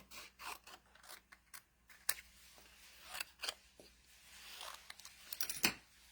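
Scissors snip through paper to cut out a small tea bag tag, giving a series of short, close crisp snips and rustles, some in quick bursts, with no talking.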